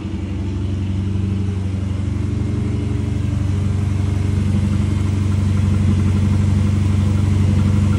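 Subaru postal car with all-wheel drive idles in park with no muffler, a loud, steady rumbling exhaust drone running continuously and close by, rough and tractor-like throughout.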